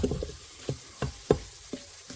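Flour cooks in an Instant Pot for a creamy mushroom gravy, with a soft sizzle under several distinct stirring scrapes and knocks spaced about half a second apart.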